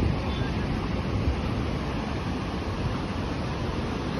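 Steady wind and breaking surf at Kuta Beach form a dense, constant roar with wind buffeting the microphone, loud and continuous throughout.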